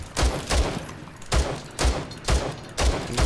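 Gunshots from a pistol in an aim-training warmup in a first-person shooter video game, six sharp shots in a steady rhythm, each about half a second apart, loud and close with no talk.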